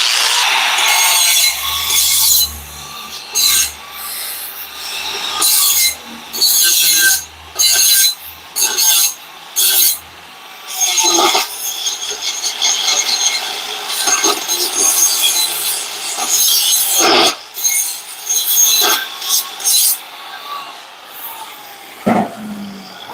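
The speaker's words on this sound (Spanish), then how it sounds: "Vamos a limar, a pulir las rebabas producto del corte." Burrs on the cut end of a metal driveshaft tube being filed and smoothed, heard as loud, steady rasping strokes repeated in rhythmic bursts with brief gaps, close up and alone.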